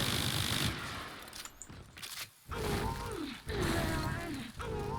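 Rapid bursts from the Athodai hand cannon's alternate fire in Warframe, a roaring loud stream broken by short pauses, with game sound effects layered in.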